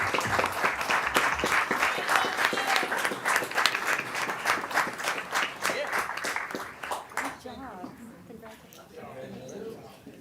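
An audience at a school board of education meeting gives a sustained round of applause for school staff, dense clapping filling the room before tapering off in the last seconds.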